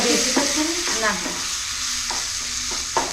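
Bitter gourd with coconut and spices is stir-fried in a pan, a close sizzle broken by repeated scraping strokes of a spoon across the pan's base, no voices.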